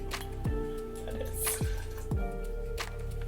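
Absinthe, about 1.5 to 2 ounces, poured into a glass, with a few close liquid glugs and drips at a steady pace and no talking.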